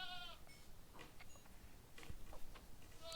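A sheep in the Minecraft video game gives short, faint bleats near the start and again at the end, separated by quiet background ticking with no talk.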